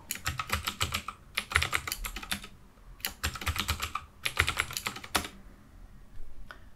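Someone types a passwd command and a new password on a computer keyboard at a Linux server login, producing loud, rapid, close-up clattering keystrokes in several long runs separated by brief pauses, with no voices.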